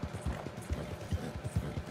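Hoofbeats of a horse galloping in Red Dead Redemption 2, a steady repeating clip-clop rhythm of low thuds, fairly close and moderately loud, with no talk over it.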